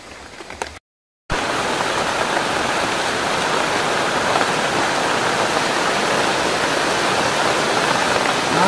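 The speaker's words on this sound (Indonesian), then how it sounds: "Mantap, hujan. Lebat." Heavy rain pours down steadily on a tent during a camping trip, a loud, dense, continuous hiss after a brief moment of silence near the start, with no talking.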